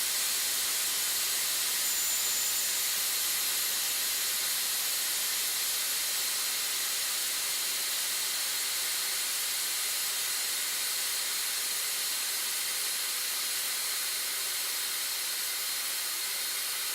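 A SmartPRV pressure relief valve vents steam in a loud, unbroken hiss that continues steadily throughout, with no voices.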